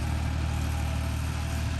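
Massey Ferguson 260 tractor engine running steadily at a constant idle-like drone, close and continuous with a deep low rumble, no voices.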